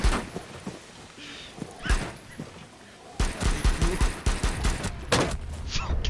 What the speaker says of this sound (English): I'm getting shot from like 9 directions.